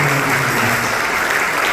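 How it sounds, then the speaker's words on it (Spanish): Loud church congregation applause during a Spanish-language worship service, dense continuous clapping close by with a low hum of voices underneath. "Un aplauso al Señor."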